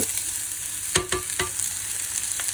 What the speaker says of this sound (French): on va mettre tout ça à cuire dans une poêle avec de l'huile d'olive